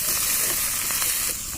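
Chilli paste, turmeric and cumin frying in a pan for a Bengali duck curry, giving a loud, continuous bright sizzle and hiss that barely varies across the brief moment.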